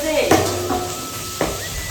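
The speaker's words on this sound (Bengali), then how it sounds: "বসে থাকতে থাকতে এত ঢুপ ঢাপ করে ফুটছে" Boal fish fries in hot oil, sizzling constantly with sharp pops and spatters bursting out every so often, heard up close with no talking.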